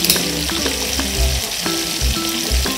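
Sardines fry in a hot pan with tomato for a noodle (odong) dish, giving a steady, close, loud sizzle broken by a few soft low thumps and stirring knocks.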